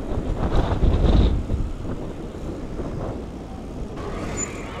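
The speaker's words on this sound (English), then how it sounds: "Here's a windy one today." Low, rumbling wind buffets the microphone steadily outdoors by an entrance in Tottenham, with a louder gust early on and a faint distant whine near the end.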